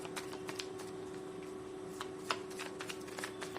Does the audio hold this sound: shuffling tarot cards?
yes